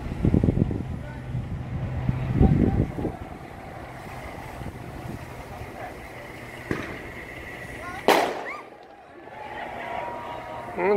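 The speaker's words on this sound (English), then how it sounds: "And someone shooting off some fireworks." Fireworks set off during a total solar eclipse in Charleston, South Carolina: a few distant pops and crackles early on, then one sharp bang near the end, over steady wind noise and faint background voices.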